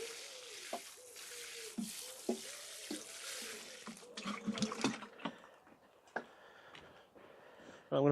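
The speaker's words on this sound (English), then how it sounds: "I'll water them in for now, then they can get settled in." Water splashes and trickles onto newly planted spring onions in a garden allotment bed, coming in uneven pours and spatters with brief knocks, loud and close, with no talk.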